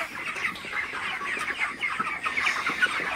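A crowd of broiler chickens rushing to drinkers, their close, busy clucking and chattering overlapping continuously with no pause.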